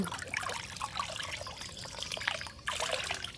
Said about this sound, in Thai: เลยตักน้ำด้วย แบบนี้